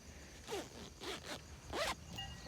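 A pillowcase zipper is pulled in three or four short, raspy strokes, close and fairly quiet with brief gaps between pulls.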